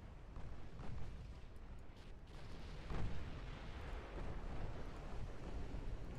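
Naval artillery in Ultimate Admiral Dreadnoughts, a German battleship engagement with many big-gun shells in flight, rendered as a continuous low rumbling roar with occasional heavier booms, distant and muffled.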